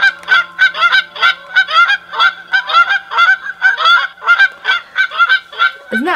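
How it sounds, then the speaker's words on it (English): Canada goose honks from a male and female played back on a handheld bird-call player, a loud rapid series of repeated nasal honks filling the whole stretch with no talk. "So that's the honk by the male and female."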